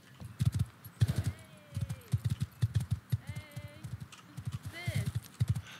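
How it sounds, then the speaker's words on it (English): A mount in the survival video game Rust trots along with rapid, rhythmic hoof clip-clops close by, a short whinny cutting in, while someone talks over the steps. "Okay, I have to take this horse."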